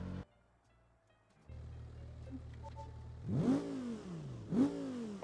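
A 2.5 liter inline-five car engine in the BeamNG driving game, idling low before two sharp revs that climb and fall back, fairly close and alone.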